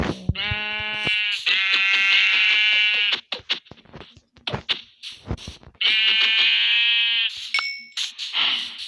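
Sheep in the Minecraft video game bleat repeatedly while being killed with a stick, the loud synthetic bleats coming in long bursts separated by clicky hit and footstep sounds.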